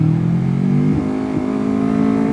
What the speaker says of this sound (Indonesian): Tuh mesin sampai teriak terus aja kayak gini.